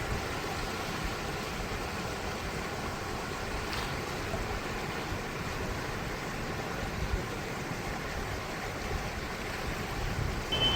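Steady broadband rush of the fast-flowing Kosi river in flood in Bihar, a constant loud roar of water without pauses or voices.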